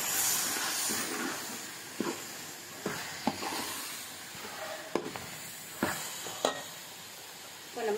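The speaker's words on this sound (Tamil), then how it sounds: "நம்ம நல்லா வதக்கிக்குவோம்" Onions with a spoonful of chilli powder sauté in a pan for Tamil anchovy fish kuzhambu, giving a soft, steady sizzle broken by faint stirring clinks and scrapes, with no talking.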